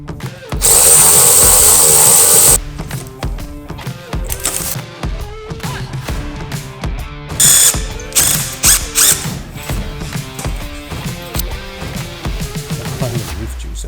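A ratchet clicks in fast repeated bursts while struts are bolted up on a BMW E46 during a lowering-spring install, with a brief louder whirring run near the start and metallic clatter between strokes.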